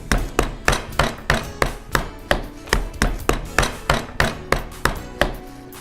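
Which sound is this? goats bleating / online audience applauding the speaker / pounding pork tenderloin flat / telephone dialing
pounding pork tenderloin flat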